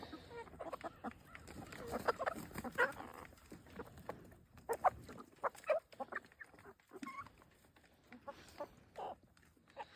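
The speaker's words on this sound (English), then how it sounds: "See if these chickens start working it." Chickens cluck and chatter in irregular bursts at moderate distance around a compost pile, with occasional louder squawks and soft scratching between them.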